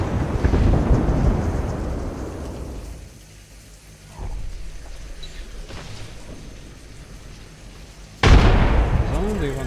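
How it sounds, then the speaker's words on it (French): Grenades exploding in the Pinpin Legends video game, with a heavy rumbling blast at the start that fades, a smaller thud near the middle and another loud boom near the end, while players talk. "Vraiment des grenades, hein."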